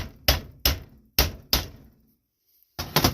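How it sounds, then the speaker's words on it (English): Five sharp metallic taps as a bearing is driven into a Cub Cadet Super LT 1550 riding mower spindle with a socket, four evenly spaced blows, a brief pause, then a final hit, close and loud. "Take your socket, make sure it's straight, and tap it in."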